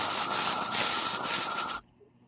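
Compressed air hisses loudly into the intake port of a Yamaha Mio i 125 cylinder head for a leak test after valve grinding, a steady close blast that cuts off abruptly.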